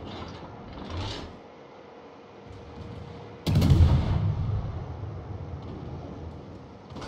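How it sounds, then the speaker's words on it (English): Torpedoes launched from a mid-tier destroyer, the Gadjah Mada, in a naval warship game: after a quiet hum of ambience, a sudden heavy thump and whooshing burst hits midway, then rumbles and fades slowly, with no talking. "that's why I threw the torpedoes out"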